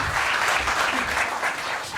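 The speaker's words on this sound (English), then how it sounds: "And applause, applause, applause, applause, applause" An audience claps at a talk event on Iran, a steady, moderately loud patter of many hands with no voices over it.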